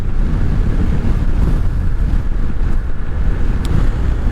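Strong outdoor wind buffets the microphone, a dense, rumbling low roar that stays loud and unbroken throughout with no voices.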